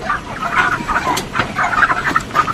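Hens cluck and murmur in a continuous chorus on a crowded poultry farm, a steady mix of overlapping calls from many birds at moderate loudness with no talk.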